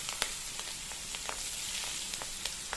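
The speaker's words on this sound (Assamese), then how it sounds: "তেলটো গৰম হৈ আছে বহুত বেছি সময় নালাগে গৰম হ'বলৈ তাতে মই দুখিলা তেজপাত দিছো সৰু সৰু আৰু এটা কাটি ৰখোৱা পিয়াজ দিছো" Bay leaves and chopped onion fry in hot oil, giving a close, steady hiss of sizzling with small sharp pops scattered throughout.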